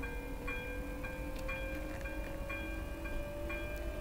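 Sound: railway level crossing warning signal in a trolleybus simulator video game

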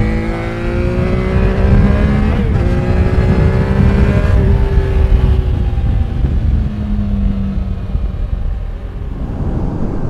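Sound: 2021 Triumph Trident 660 motorcycle engine

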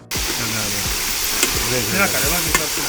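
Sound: green chili paste frying while stirred for lemon rice

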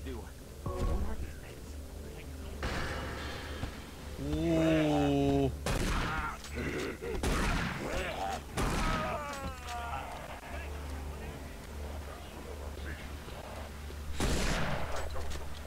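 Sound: shotgun firing at boss in Doom 3 video game

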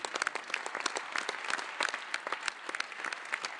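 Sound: applause in the Italian Chamber of Deputies

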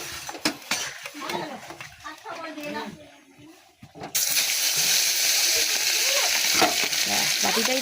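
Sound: fish frying in salted oil, turned with spatula

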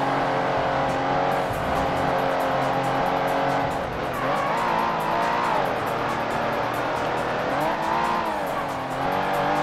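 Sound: race car driving with tire squeal in Ford Racing video game

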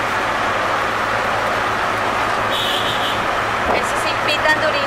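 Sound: chaotic street traffic in New Delhi

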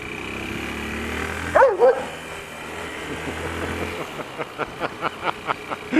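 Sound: dog barking aggressively

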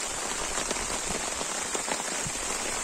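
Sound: rain falling

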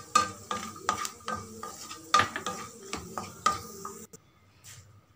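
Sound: beetroot frying and stirring in pan

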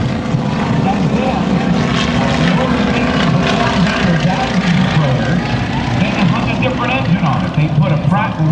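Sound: Stearman biplane with Pratt & Whitney 9-cylinder radial engine flying

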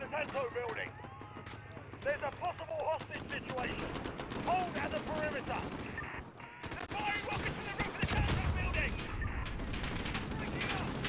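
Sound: AK-47 gunfire in the video game Modern Warfare

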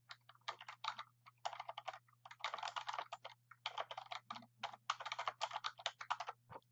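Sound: typing on a computer keyboard

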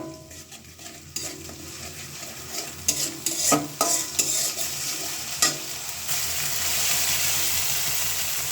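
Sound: onion, garlic and spices being stir-fried

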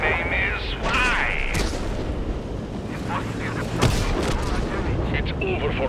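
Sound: tank gun firing in World of Tanks video game

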